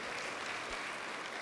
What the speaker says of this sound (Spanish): Démosle palmas fuertes al bendito Rey por esa obra maravillosa.